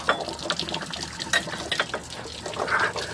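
Hot coolant water trickles and splashes steadily from a leaking water pump on a 2003 Dodge Town & Country engine, running out and dripping onto a surface close by, with no talking.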